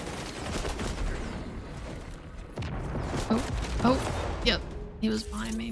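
Rapid gunfire in the video game XDefiant, a steady stream of bursts and shots throughout with a few sharper cracks near the end, mixed with game sounds.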